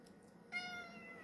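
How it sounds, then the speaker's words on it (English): A cat gives a single short meow, close but soft, after a quiet moment with no talking. "You're meowing."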